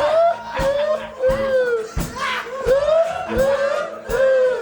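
A live music crowd at The Mill shouts a short "ha" together several times in a steady rhythm, each burst loud and crowded over a musical drone.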